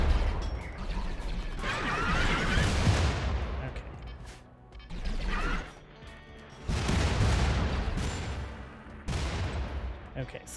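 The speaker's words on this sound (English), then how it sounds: "These guys, their shots are explosive." Explosive blaster gunfire in the RimWorld video game with a Star Wars mod, heard as dense, rolling bursts of shots and booms in several waves over about ten seconds, loud and continuous.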